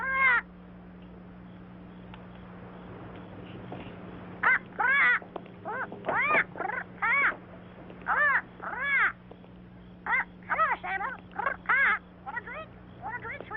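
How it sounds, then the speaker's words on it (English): A bird squawks in a series of harsh, crow-like caws, repeated in uneven clusters over a steady low hum, loud and close. "Put a lid on that bird."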